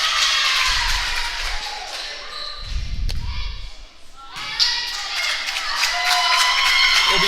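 Crowd at a senior girls' regional basketball game claps and cheers in the gym, with thumps and ball sounds, a brief lull in the middle, then the noise rises again with voices throughout.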